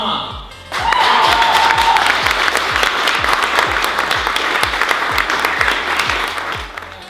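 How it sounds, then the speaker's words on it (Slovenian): A crowd applauds loudly at the Imagine Cup 2015 student technology competition, a sustained dense wash of many hands clapping that swells quickly and holds for several seconds before starting to fade. "Bravo, velik aplavz."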